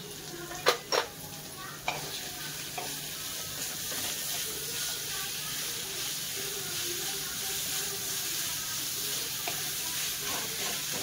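Onions for veg pulao hit a hot pan with a few sharp clatters, then settle into a steady, soft sizzle with light stirring that continues evenly throughout.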